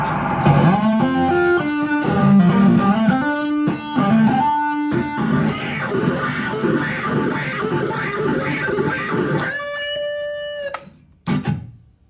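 Electric guitar played through heavy distortion with a sweeping, filtered wah tone on a Zoom G1Four, melodic phrases flowing into sustained held notes and a short final stab.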